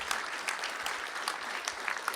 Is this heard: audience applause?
yes